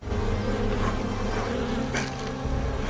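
Bees swarm around a wild beehive in a swamp, making a dense, continuous buzz that is loud and close throughout.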